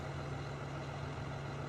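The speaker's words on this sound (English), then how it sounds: "yeah, I'm sure you can hear this tractor" A tractor engine idles in the Farming Simulator 2013 video game, a low, steady rumble droning evenly throughout at moderate level with no voices.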